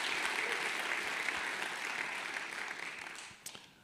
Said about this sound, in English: So let's have a round of applause for the gold sponsors.